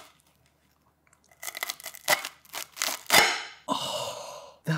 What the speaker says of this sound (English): I need this to be crunchy once I cut into it